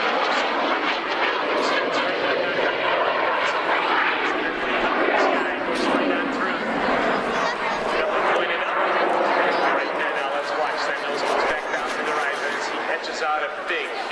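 A North American F-86 Sabre's engine roars continuously during aerobatic rolls, dives and loops, its pitch swelling and shifting as it manoeuvres, with someone talking over it.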